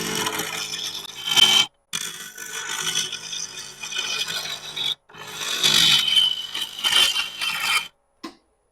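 Rasping, scraping strokes of a woodturning tool being sharpened come in several bursts separated by short pauses, close and fairly loud, with no speech.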